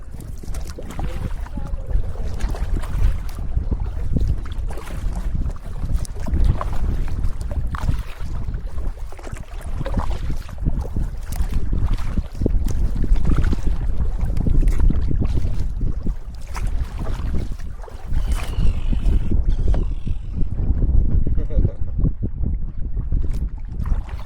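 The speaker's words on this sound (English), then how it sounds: "we're going to be facing some harsh winds at points today" Harsh wind rushes across a lake during a backcountry canoe trip in Quetico, a loud continuous buffeting roar with gusty microphone rumble and faint water movement throughout.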